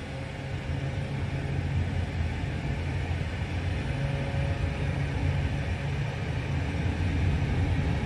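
Pilatus PC6 short takeoff and landing aircraft taking off and climbing away from Dunkeswell Aerodrome, a loud steady engine and propeller drone heard from inside the cabin, continuous and unbroken.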